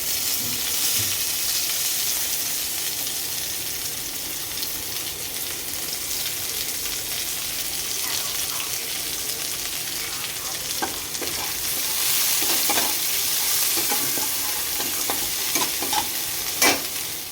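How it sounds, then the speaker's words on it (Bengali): Chopped onion fries in a pan with green chilli, a long steady hiss of sizzling oil broken by occasional stirring clicks and scrapes, close and alone. "আর দিয়ে দেবো পেঁয়াজ কুচি"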